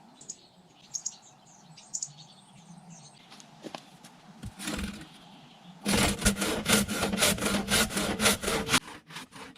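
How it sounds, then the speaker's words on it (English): A large handsaw cuts off the protruding log ends of a log cabin wall outdoors in the wilderness, with birds chirping at first, then a run of loud, rhythmic rasping strokes. "the protruding log ends are being cut off with a large handsaw"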